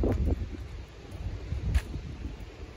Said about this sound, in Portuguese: Debaixo de vento, né